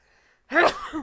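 A single sharp sneeze bursts out close by during a tabletop board game session, loud and brief after a quiet moment, with a short voiced tail trailing off.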